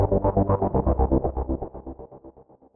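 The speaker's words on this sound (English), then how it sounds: "I had no idea that GForce stuff sounds like this." A polyphonic patch on the GForce AXXESS software synthesizer plays a rapidly pulsing, rhythmic chord stuttering about eight times per second and gradually fading out, heard alone.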